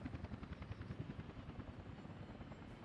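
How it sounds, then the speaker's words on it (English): Helicopters fly in the Workers & Resources: Soviet Republic city-building game, a steady rotor thump with a low engine drone, moderately close and continuous for a few seconds. "we've got so many helicopters here"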